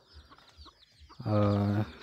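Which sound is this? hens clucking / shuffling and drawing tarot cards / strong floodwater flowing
hens clucking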